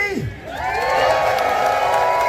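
County fair crowd cheering and whooping for a racing pig, a loud, close swell of mixed voices and shouts that rises quickly and holds.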